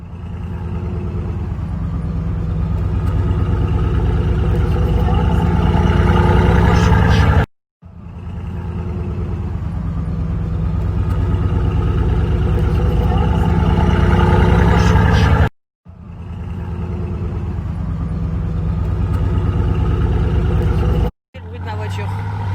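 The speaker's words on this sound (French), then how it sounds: "Le bruit de ma voiture." A car engine runs with a steady low rumble that builds over several long stretches, broken by brief silences, while people talk over it.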